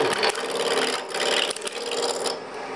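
A woodturning tool's bevel rubbing against spinning wood on a lathe, a close, continuous scraping rasp that wavers in intensity with a couple of brief dips.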